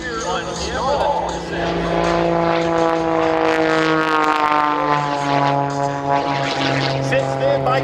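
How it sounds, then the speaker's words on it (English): Propeller aerobatic airplane performing at the Wings Over Houston airshow, its engine droning and rising in pitch as it manoeuvres, loud and sustained with shifting tone, with an announcer's voice faintly under it. "Now, Mike began flying aerobatics 27 years ago"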